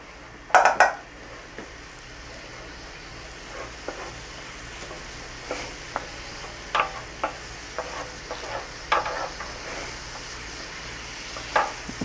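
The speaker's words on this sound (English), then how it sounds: "I'm going to let that simmer around for about a minute or so" Garlic sizzling in a pan in a fire station kitchen during mac and cheese preparation, a low steady fry under a series of sharp utensil clacks and scrapes against the pan, one loud knock early on, no talking.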